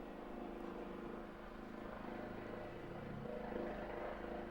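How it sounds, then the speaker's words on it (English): A low, steady engine drone hums throughout, faint and distant, like a helicopter hovering outside with a slight swell near the end. "There's a helicopter outside my flat, chat."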